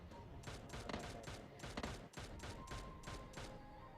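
Rapid bursts of video game gunfire crack in quick succession, loud and close, a sustained volley of shots with short gaps between them.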